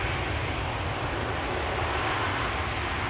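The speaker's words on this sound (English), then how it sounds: "And the E2 to Munich, KLM flight 1851, rolling, going." A KLM Embraer E2 jet rolling for takeoff toward Munich at Schiphol Airport, a steady broadband engine roar heard from a distance, even and unbroken throughout.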